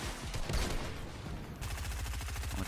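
Rapid gunfire in the video game Fortnite, a dense, loud stream of automatic shots merging into a continuous rattle, then sharper distinct bursts with a quick repeating rhythm near the end.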